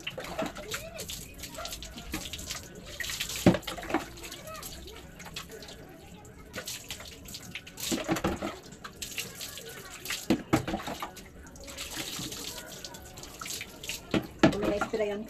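Hot water runs from a tap in a steady, splashing stream with drips, close by, while a person talks over it.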